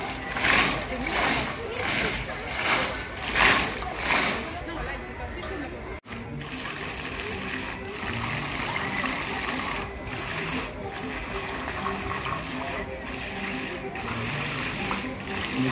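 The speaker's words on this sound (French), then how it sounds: "Des petits spectacles d'eau." Small water-show fountains at a park splash and gush steadily, with rhythmic bursts of spray in the first seconds and then a continuous rushing patter, with a voice talking over it.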